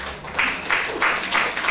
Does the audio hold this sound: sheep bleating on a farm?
no